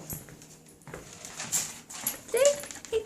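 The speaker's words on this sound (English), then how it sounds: "Crazy dog." A dog whimpers after tearing up a bird's head, thin high whines rising in short bursts amid soft shuffling and faint background noise, close by.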